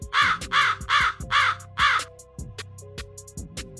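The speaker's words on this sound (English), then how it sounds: "Hooded crow." A hooded crow caws five times in quick, evenly spaced harsh calls, loud and close, followed by quieter clicking and faint tonal sounds.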